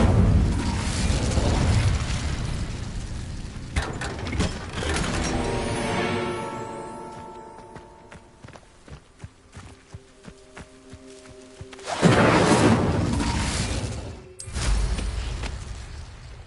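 An Incendio fire spell is cast in Hogwarts Legacy: a loud burst of flame and booms, then a fading shimmering magical ring, followed by another sharp blast and rumble near the end.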